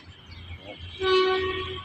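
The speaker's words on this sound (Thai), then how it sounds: "รถไฟกำลังมาแล้วครับ" A train approaches along a railway track, a low rumble joined after about a second by a loud, sustained horn-like tone that swells and holds.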